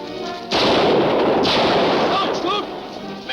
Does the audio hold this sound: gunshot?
yes